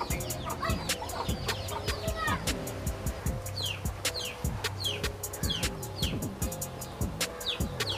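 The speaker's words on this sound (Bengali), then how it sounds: "বৃষ্টির কারণে এই মুরগিটা আশ্রয় নিচ্ছে গাছের নিচে" A chicken sheltering under a tree from the rain clucks repeatedly and close by, with other birds chirping around it and a person talking over the fowl.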